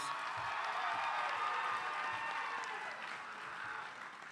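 Steady, dense applause from a banquet audience at an athletic awards event, honoring athletic training student interns; many hands clapping together at a constant loud level, easing slightly toward the end, with no speech over it.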